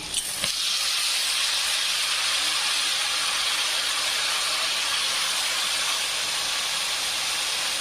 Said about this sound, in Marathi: नंतर आपल्याला टाकून घ्यायची आहे मेथीची भाजी